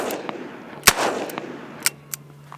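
Smith & Wesson 686 Competition revolver firing .357 Magnum rounds outdoors, one sharp, loud shot followed by a rolling echo, then fainter clicks and small impacts, with no talking.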